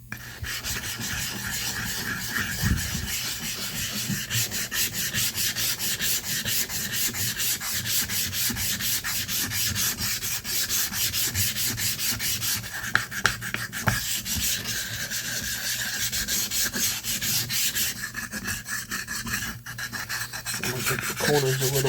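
A straight razor is honed on a Suehiro 20K finishing stone, giving a steady run of soft rhythmic rubbing strokes, close and moderately loud, unbroken for about twenty seconds with no talking.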